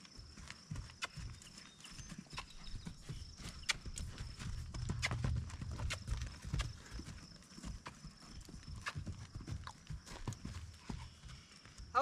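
A horse cantering in an arena, its hoofbeats landing as soft, fairly faint, irregular thuds throughout, with faint background sounds.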